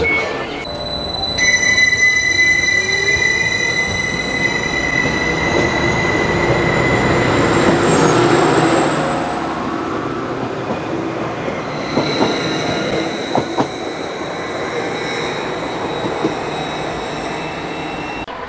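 A passenger train on the Breckland Line pulls into the small rural Spooner Row station, wheels squealing loudly and brakes hissing as it slows, followed by rumbling and clicking as it settles to a stop.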